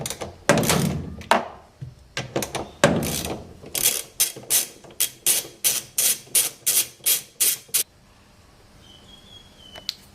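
A socket ratchet, a 3/8 socket on a socket set, loosening the stator bolts of a Fisher and Paykel washing machine: a few heavy clunks, then a steady run of about a dozen rhythmic ratchet clicks that stops before a quiet tail.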